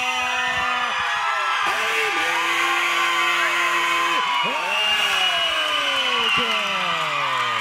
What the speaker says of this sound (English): Listen to that crowd noise.